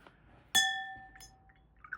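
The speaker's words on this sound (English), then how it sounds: "That's no good when you hit glass on glass like that" A single sharp clink of glass striking glass, ringing bright and close before slowly decaying, followed by a couple of faint small clicks.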